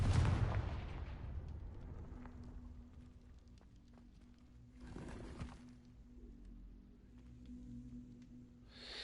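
Confringo fire spell explosions in the video game Hogwarts Legacy, a loud burst at the start and another blast midway, with low rumbling game ambience between.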